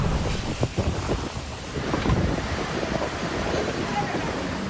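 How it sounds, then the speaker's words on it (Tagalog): Strong typhoon wind roars and buffets the microphone with gusty bursts, with rain mixed into the rushing noise, during a storm in Surigao City, Surigao del Norte; loud and continuous. "Sa Surigao City, Surigao del Norte, malakas na hangin at ulan din ang nanalasa."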